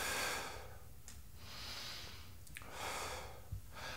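Slow, airy breaths in and out during a beginner workout exercise, several soft swelling inhales and exhales at close range with no talking.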